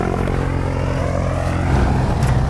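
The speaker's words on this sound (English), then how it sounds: "This is a single engine plane which can carry 3 passengers plus the pilot." A single-engine propeller plane that seats three passengers plus the pilot, its engine droning loud and close with a steady throbbing hum throughout.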